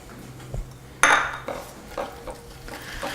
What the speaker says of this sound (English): Stir it together until I have an almost smooth consistency